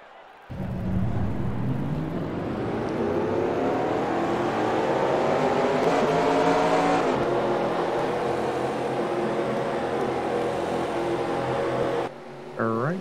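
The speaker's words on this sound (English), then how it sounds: "Drivers, start your engines." Race car engines at Talladega in a racing video game fire up together into one sustained, loud roar whose pitch climbs steadily as they rev, then cuts off abruptly near the end.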